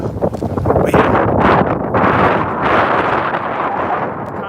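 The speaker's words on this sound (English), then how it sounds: "it's kind of windy out here." Strong wind gusting outdoors in Southern California, loud continuous buffeting roar across the microphone throughout, no voices.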